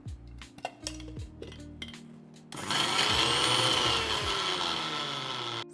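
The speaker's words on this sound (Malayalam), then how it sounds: "ഇനി സെസമി സീഡ് ഒരു 5 വെളുത്തുള്ളി ആൻഡ് കുറച്ച് എക്സ്ട്രാ വെർജിൻ ഒലിവ് ഓയിൽ ഇത്രയിട്ട് നല്ല ഫൈൻ പേസ്റ്റായിട്ട് ഗ്രൈൻഡ് ചെയ്തെടുക്കാം" A mixer grinds sesame seeds, five garlic cloves and extra virgin olive oil into a fine paste, starting with a few clinks and knocks, then a steady loud whirring roar that runs continuously to the end.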